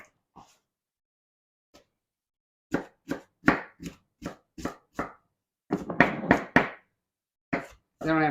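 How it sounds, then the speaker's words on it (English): A knife slices and quarters onions on a cutting board, giving a series of crisp, evenly spaced chopping thunks up close, later quickening into a rapid cluster of cuts, with quiet pauses between and no talking. "I'm just gonna slice them up like that. And go ahead and quarter in the other direction."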